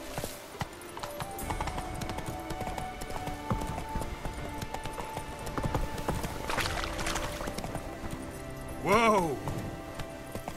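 Geralt's horse galloping in The Witcher 3 video game, a steady rapid clip-clop of hooves running throughout, with a short whinny near the end and a rider calling out briefly over the hoofbeats.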